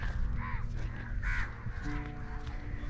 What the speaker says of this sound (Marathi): कावळे जास्त आहेत, इथं कावळे चोरडत आहेत नुसते.